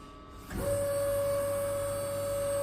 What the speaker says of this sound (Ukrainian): Вмикаємо гідравліку.